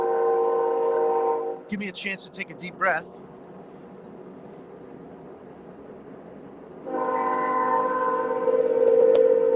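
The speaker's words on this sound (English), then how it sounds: "sorry for the train." A train horn blares in long sustained blasts, stops while someone speaks, then sounds again loudly.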